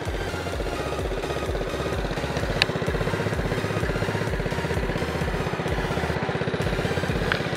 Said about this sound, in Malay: Okay, enjin pun bunyi senyap ni.